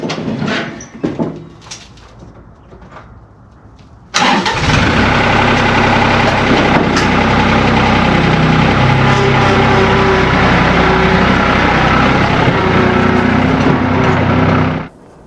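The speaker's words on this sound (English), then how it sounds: "they require the use of my most favorite useful chore tractor on the farm, the New Holland" A New Holland TC35 DA compact farm tractor cranks and its engine catches abruptly after a few quiet seconds, then idles loud and steady close by before cutting off at the end.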